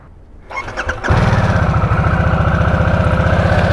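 A Harley-Davidson Nightster motorcycle engine cranks briefly and fires up, settling into a loud, steady, throbbing idle close by with no talking.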